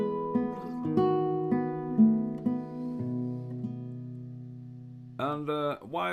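A classical guitar plays the opening of Tárrega's Lágrima, with melody, bass and an open middle voice ringing together in slow, clear plucked notes, alone and close, before a voice briefly starts speaking.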